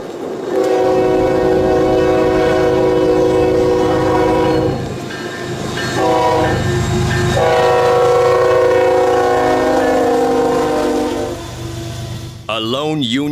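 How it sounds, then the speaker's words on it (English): A Union Pacific GEVO locomotive hauls a loaded military train on Norfolk Southern rails, its loud horn blaring in long sustained blasts over the rumble of rolling cars, close by. "A lone Union Pacific GEVO thundered out of Illinois, hauling a fully loaded military train on Norfolk Southern rails."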